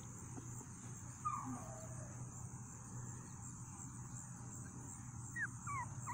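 A three-week-old puppy from a litter of five whimpers softly in a few brief, high, thin cries over a quiet background hum.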